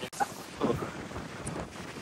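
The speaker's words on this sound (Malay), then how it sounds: "So pagi ni sebab kuat sangat angin." Strong wind buffets an open-air mountain hiking trail, rough gusty rumbles across the microphone with no talk.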